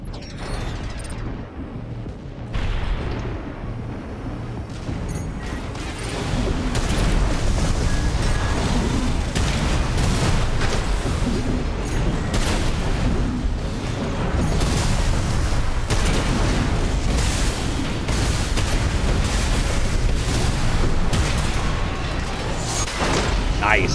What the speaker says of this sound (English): That pile bunker feels fantastic when you hit, but it is unreliable.